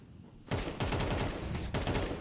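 An AK rifle firing in Counter-Strike 2, loud rapid bursts starting suddenly after a half-second lull and repeating in quick succession to the end.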